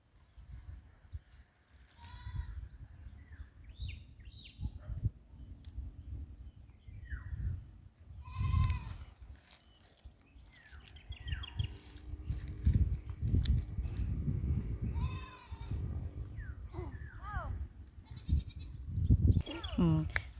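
Goats on a farm bleat repeatedly in short wavering cries, some close and some farther off, while people talk throughout and a horse may be nearby.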